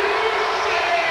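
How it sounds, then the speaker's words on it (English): Arena crowd in Hull cheering loudly after a point in a 1999 Canada versus Brazil volleyball match, a sustained roar of voices and whoops filling the whole brief moment. "you hear the crowd here in Hull appreciating one of their own"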